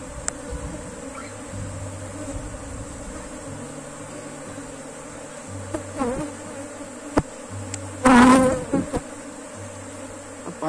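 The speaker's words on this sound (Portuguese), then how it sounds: "É porque o enxame tá populoso." Populous honeybee swarm buzzing steadily in a hive while it is being divided, a close, continuous drone with one louder burst as a bee passes the microphone, no speech.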